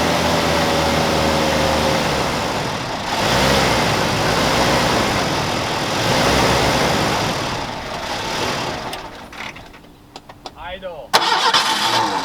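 Old Ford Mustang engine turning over and catching, then running in a rough, loud, close idle with a steady rumble before it falters and sputters near the end; voices are faintly present.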